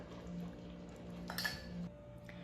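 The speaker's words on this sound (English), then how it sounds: "Slowly stir it in" A paprika mixture is stirred into a pot of cooking matbucha, giving soft scraping and light clinks of a utensil against the pot over a low steady background.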